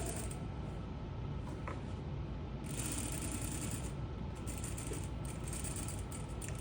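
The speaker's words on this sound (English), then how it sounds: "So I'm gonna stitch at 1/2 inch. So a few stitches, always reverse." A sewing machine stitches fabric at a half-inch seam allowance with a steady mechanical whir and faint ticking, running continuously with slight changes in pace when it reverses.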